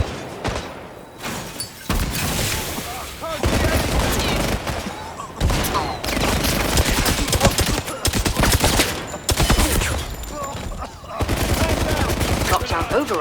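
Loud bursts of automatic gunfire from the video game 007 First Light come in rapid, dense volleys separated by short pauses, with booming impacts layered through the firefight.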